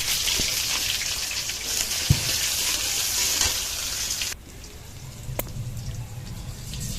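Chopped onion hits hot oil in a pan already holding bay leaf and cumin, giving a dense, steady sizzle that suddenly drops to a softer, quieter frying hiss partway through, with no talking.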